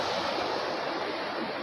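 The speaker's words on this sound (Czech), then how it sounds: "Vidíte ten vodopád? To je skoro jak v Amazonii" Waterfall in the deer park beside Žleby castle in East Bohemia: a steady, dense rush of falling water that stays even throughout, with no voices.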